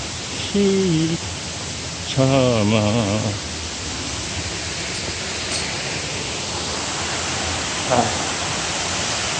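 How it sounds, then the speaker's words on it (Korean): Cheonjeyeon Waterfall's second falls in Seogwipo, Jeju, pours down in a steady, broad roar of rushing water that fills the whole stretch, with a voice speaking briefly over it near the start. "이 폭포가 아주 그냥 웅장하게 물이 쏟아져 내리고 있습니다"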